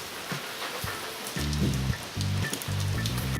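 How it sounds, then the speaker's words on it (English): Rain falls in a steady broadband hiss that runs through the whole stretch, with low tonal hums and patters rising under it in the second half. "But it's raining."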